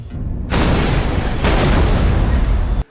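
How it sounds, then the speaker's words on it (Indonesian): A Semtex charge blows out the underside of a plane in a heist film, a loud roaring blast that rumbles on, surges again with a second burst, then cuts off abruptly. "hal tersebut menyebabkan bagian bawah pesawat itu meledak sempurna"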